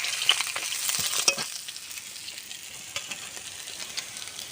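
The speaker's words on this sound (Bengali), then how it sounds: "মাছগুলো সুন্দর করে ভাজা হয়ে গেছে আমি তুলে নেব" Fish fries in oil for a Bengali panta bhat meal, a dense close sizzle that runs steadily throughout with a few louder pops and spatters near the start and no voices.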